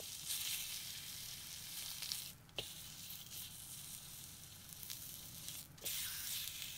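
Pork belly sears and renders fat in a hot pan, giving a steady, close sizzle and crackle with a few sharper pops and no talk.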